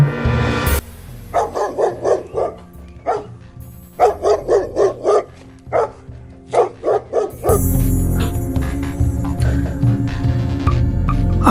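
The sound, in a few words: dogs barking in the distance, horror story sound effect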